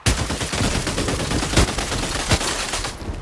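Rapid automatic AK rifle fire in a shooter video game, a dense, loud continuous volley of shots with a few heavier bursts, cutting off abruptly near the end.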